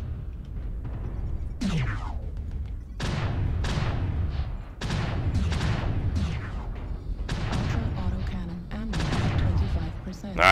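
Heavy mech gunfire in MechWarrior Online, a steady run of booming shots and thuds over a loud rumbling battle bed, close and continuous.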